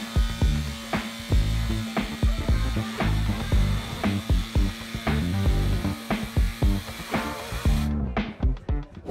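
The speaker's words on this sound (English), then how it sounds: "A demonstration of the new quad saw device, which some can drill square holes." A quad saw device drills square holes with a loud, close buzzing power-tool whine and rhythmic rasping pulses as it cuts through the material, stopping near the end and leaving a few fading clatters.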